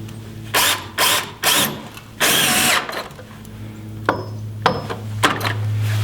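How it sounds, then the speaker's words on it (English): A power driver fitted with a 5/16 nut driver runs blue screws into a wooden compost toilet frame in a tiny house build, giving four loud whirring bursts followed by quieter clicks and short spins as each screw seats. "Now I've got a nut driver, 5/16, and that fits these blue screws here."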